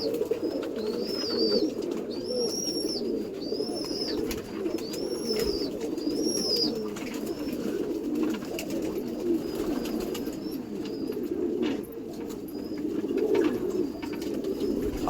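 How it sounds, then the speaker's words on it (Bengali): Champion pigeons and their young in a loft coo softly and repeatedly, several birds overlapping in a steady low murmur, with a few higher chirps early on, close and without talk. "আর ওপরে বাচ্চা পায়রা সব দেওয়া আছে"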